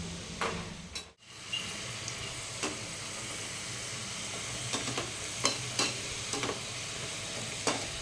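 Homemade french fries frying in hot oil give a steady close sizzle throughout, with a few soft clicks and stirring taps scattered over the bubbling.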